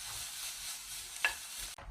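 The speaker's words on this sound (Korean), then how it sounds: "그 다음에 고기를 볶아주세요." Meat and garlic stir-fried in a pan, with a steady broadband sizzle running throughout, a brief scrape of the utensil near the middle and a short drop in the sound just before the end; no one speaks.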